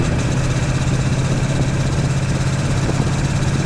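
A fuel-injected, liquid-cooled Triumph Bonneville motorcycle engine runs close by with a steady, loud, throbbing idle that holds an even rumble throughout.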